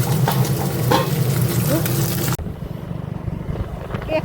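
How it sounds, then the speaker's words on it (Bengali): Fish frying in a pan in a home kitchen, a steady loud sizzle for about two seconds, then a quieter crackle with faint clatter after it. "এই যে মাছ ভাজা বসিয়ে দিয়েছি"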